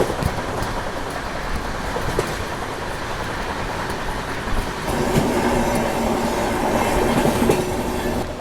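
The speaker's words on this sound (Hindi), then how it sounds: "ये शायद से बिलासपुर भगत की कोठी एक्सप्रेस थी।" The Bilaspur Bhagat Ki Kothi Express passes on a ghat section with a loud continuous rumble and clickety-clack of wheels, close by, swelling louder toward the end, with no talk.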